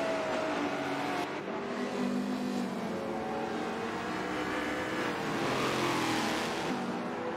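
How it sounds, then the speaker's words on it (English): A 650 hp Chevrolet Camaro race car in Forza Motorsport 7 held at wide open throttle down a long straight, one steady loud engine roar with shifting harmonics and no talk. "Nothing like a 650 horsepower Camaro wide open throttle on that straightaway"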